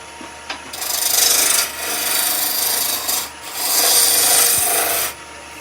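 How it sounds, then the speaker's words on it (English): Wood lathe turning the top of a pepper mill with a roughing gouge, loud close rasping cuts in three long sustained bursts with brief pauses between. "So this is now the top of our grinder. I'm going to keep this as thick as I can. So rough and gouge to start with."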